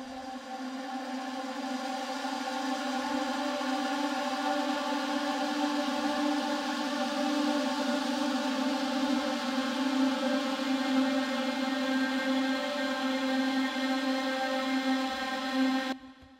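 A granular-synthesized vocal sample, processed in Cecilia 5, forms a steady sustained drone of layered harmonic tones, like a held chord that swells gently and stays loud for the whole stretch before cutting off at the end.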